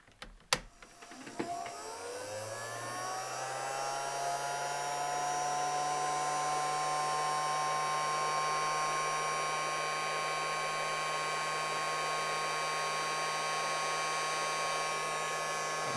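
A heat gun or hot-air tool runs steadily while a loop is welded into a sinking fly line, rising after a few clicks into a loud, sustained whirring hum with a whining tone that holds unbroken to the end.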